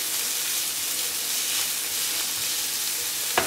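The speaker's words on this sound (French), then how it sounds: "On mélange rapidement pour faire réchauffer donc la tomate." Tomatoes and basil sizzle steadily in a hot pan while being stirred quickly to reheat, a loud, continuous frying hiss with a brief utensil knock near the end and no speech.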